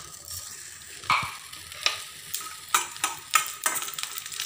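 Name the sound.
cashew nuts frying in ghee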